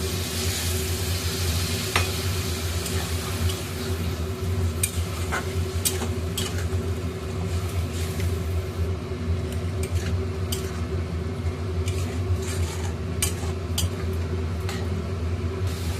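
Masala with turmeric, chilli, coriander, cumin and salt is stir-fried for a Bihari style egg curry, giving a steady dense sizzle under a low hum and occasional sharp scrapes against the pan.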